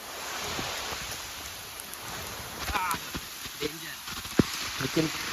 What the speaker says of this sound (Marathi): जोरदार असा पाऊस आलाय